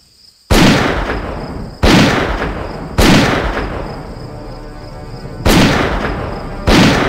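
Five loud, isolated gunshots boom out at irregular intervals in the Deadly Dozen Reloaded video game, each sharp crack followed by a long echoing decay, with no talk.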